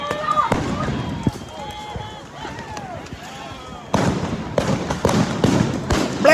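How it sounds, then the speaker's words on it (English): Tear gas canisters burst in Paramount, California, a run of sharp, loud bangs in quick succession over background commotion and talking voices. "It's the fucking tear gas canisters exploding."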